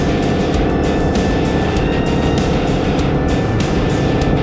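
A turbocharged pickup truck fitted with a Banks Pedal Monster throttle controller accelerates on a desolate Quebec road, its engine a loud, steady, sustained roar from inside the cab with a faint whine running above it.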